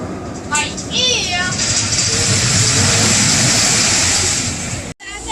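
A mine train roller coaster at Six Flags Great Adventure rumbles and roars steadily close by, with a loud continuous rush of wheels and wind and crowd noise over it, cutting off abruptly near the end.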